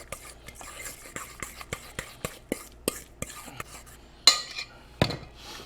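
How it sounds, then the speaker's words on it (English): A utensil stirs a chorizo and cream cheese mixture with chopped jalapenos for fajita pinwheels, making a series of close, sharp scrapes and taps against the bowl in an irregular rhythm, with no talk. "Give it a quick stir."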